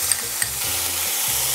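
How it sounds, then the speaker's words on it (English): Pounded chilies and garlic hit hot oil in a pan, a loud, close sizzle with a couple of sharp spatula taps early on, then steady frying throughout. "Now let's add the pounded chilies and then garlic"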